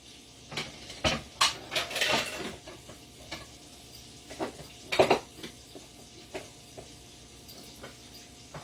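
A big pile of dishes being washed: irregular clinks and clatters of plates, pots and utensils, some sharp and close, spaced over a quiet running background.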